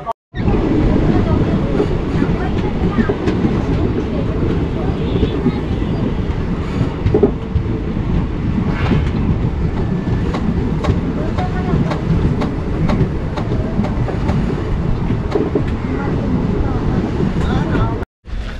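Kanchanjunga Express passenger train running between Kolkata and Agartala in Bihar on the Northeast Frontier Railway, a steady loud rumble of the moving train recorded on board that holds for nearly the whole stretch with faint clattering, cutting off abruptly at the end.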